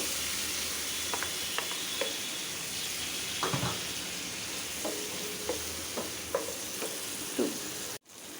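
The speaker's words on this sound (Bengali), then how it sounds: "তার মশলাটা ভোনা করে নিতে হবে" Spice paste of green chilli, turmeric, chilli and coriander powder, ginger, garlic and salt with a little water fries in a pan, a steady sizzle broken by scattered scraping stirs and clinks, close and alone until it cuts off near the end.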